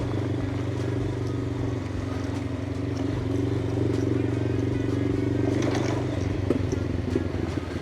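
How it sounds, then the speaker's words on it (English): A motorcycle ridden along a green lane, its engine droning steadily and loud throughout, with some clatter and crackle from the rough track, and a voice speaking over the engine. "Oh, this bike sounds feckin' brilliant."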